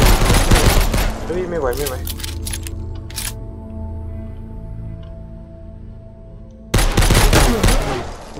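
Rapid gunfire in the PC survival shooter She Will Shoot, bursts of shots at the start and again near the end, with a low droning ambience between and someone talking over it.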